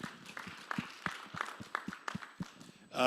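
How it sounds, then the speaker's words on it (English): A small audience claps in sparse, uneven bursts, individual hand claps distinct and fairly quiet rather than a full roar, ending with a louder swell of noise. "let's give them a round of applause"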